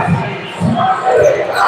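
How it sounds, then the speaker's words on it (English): Loud basketball crowd on their feet, roaring and chanting for defense in a packed arena during an MK Breakers versus London Cavaliers game, a sustained wall of rhythmic shouting. "Now the crowd are on their feet screaming defense."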